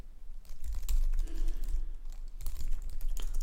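Steady typing on a computer keyboard while writing code, with close, continuous key clatter and heavier thumps mixed in.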